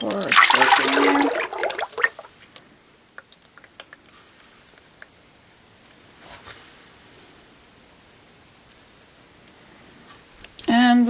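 Thick liquid hot-process soap pours into a pot with a gurgling splash, then trails off into quiet drips and light taps, ending with a brief louder rattle.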